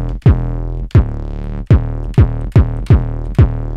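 A Serum synth patch pushed through two stacked overdrives, remaking Space Laces and Getter's "Choppaz": six loud, gritty bass stabs, each with a sharp downward pitch drop, repeating at a steady, even rhythm with no talking.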